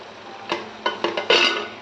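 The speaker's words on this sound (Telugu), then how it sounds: "బాయిల్ చేసుకున్న ఆలుగడ్డను వేసుకుంటామండి" Boiled, cut potatoes being dropped into a pot of rajma curry and stirred, giving four or five close scraping and clattering knocks of a spoon against the pan over a quiet background.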